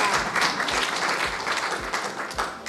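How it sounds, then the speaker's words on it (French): An audience gives a warm round of applause for an event's organising committee, continuous dense clapping at close range with slight swells and no voices on top. "Une bonne main d'applaudissement à mon comité organisateur."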